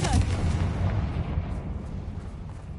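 A blasting spell goes off in the Hogwarts Legacy video game as a deep, rumbling explosion that booms at once and then rolls away in a long low-pitched decay, loud and close.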